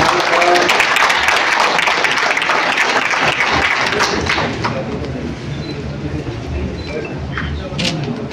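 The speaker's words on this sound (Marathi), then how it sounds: "वकील संघाच्या सर्व सदस्यांना विनंती आहे की त्यांचं आपण सर्वांनी टाळ्या वाजवून" Bar association lawyers at a Jalna district meeting applaud the arrival of MP Shrikant Shinde, loud and close at first, then gradually thinning and fading toward the end.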